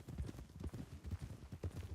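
Horse hooves clip-clop in a steady trotting rhythm in a Western ranch role-play video game, low and fairly faint, with no talk over them.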